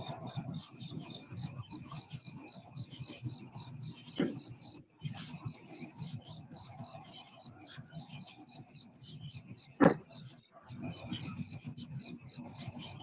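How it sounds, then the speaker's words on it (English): Cricket-sound white noise machine playing a continuous, high-pitched rhythmic chirping loop that cuts out briefly twice, with low background murmur and a couple of sharp knocks. "The cricket noise machine?"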